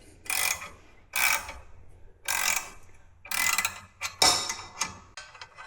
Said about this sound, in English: I just use a simple gear puller, then I can get it taken off without damaging anything